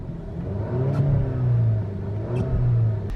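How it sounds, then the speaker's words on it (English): An Alfa Romeo Stelvio engine idles with a low, steady rumble, rising in a couple of brief revs that swell and settle, close by and without talk. "Let's go ahead and fire up the car."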